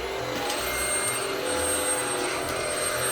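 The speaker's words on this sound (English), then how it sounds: "It's an electric vacuum cleaner." An electric vacuum cleaner runs indoors beside a Christmas tree, a steady, close, continuous motor roar with airy hiss that holds for the whole stretch without pause and with no talking.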